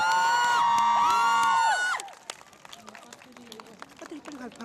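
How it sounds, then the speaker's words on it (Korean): A military band at a ground forces festival fringe performance finishes with sustained gliding tones, then the crowd breaks into cheering, shouts and scattered clapping. "우리 밴드 장병 여러분들께 큰 박수 부탁드립니다."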